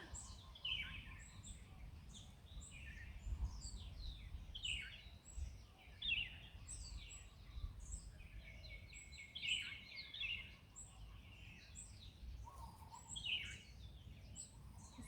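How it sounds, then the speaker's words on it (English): Several birds sing and chirp outdoors in repeated bright phrases over a steady low rumble of ambient noise. "Just listen to the birds."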